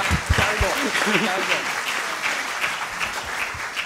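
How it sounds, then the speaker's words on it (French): Steady applause from an audience at a film award closing ceremony fills the space as a continuous dense clatter, with a voice briefly rising over it near the start. "encore un tonnerre d'applaudissements, s'il vous plaît"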